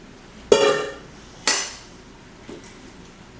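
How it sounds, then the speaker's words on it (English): A metal spoon striking the inner pot of an Instant Pot while beef and broccoli are stirred, two loud ringing clanks followed by a softer tap, each fading with a short metallic decay. "Give it a good stir."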